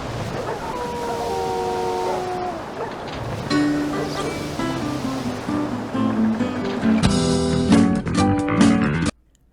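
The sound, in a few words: storm waves at sea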